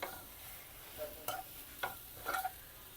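Ivy gourd fry with grated coconut in a pan, a faint steady sizzle with a few soft scraping stirs of a spatula, quiet and close with no talking.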